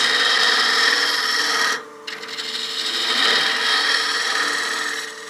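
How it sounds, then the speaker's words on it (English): A wood turning scraper hollows out a small wooden bat house ornament on the lathe, giving a steady, close rasping scrape that drops out briefly midway and then picks back up. No voices are heard. "just using that scraper to open this up a little bit and just removing some of that mass"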